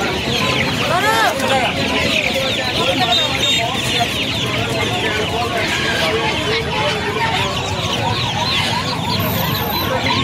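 A crowded chicken market in Uluberia, with Sonali and Australian chickens for sale, fills with dense, continuous clucking from many birds close by, while people talk over the constant flock noise.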